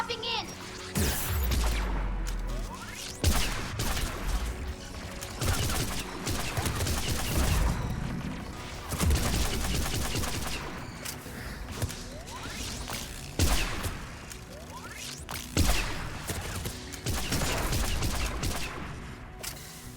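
In Mass Effect 3 on the Quarian homeworld Rannoch, tower defence guns fire in heavy bursts of booming shots and crashes, dense and loud, with a voice speaking over the combat.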